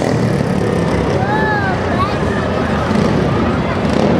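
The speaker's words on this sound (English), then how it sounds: "Can hear him really cranking that motorcycle up back there." A stunt motorcycle, readied to jump eight cars in Billings, Montana, revs in the distance with a couple of rising whines, partly buried under steady outdoor crowd noise and wind.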